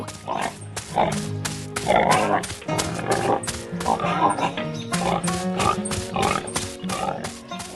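Pink pigs oinking and grunting continuously inside a wooden barn, under cheerful background music, with no one speaking.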